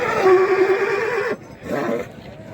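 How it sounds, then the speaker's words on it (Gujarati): A horse at a horse race neighs loudly and up close in a long, wavering whinny, followed by a softer second whinny. "બહુ સારો ઘોડો"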